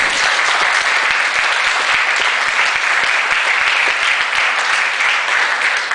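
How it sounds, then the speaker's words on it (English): An audience at the Sierra Madre State of the City event applauds the city council members with steady, dense clapping that fills the room, loud and continuous with no talk over it. "Please give them a round of applause."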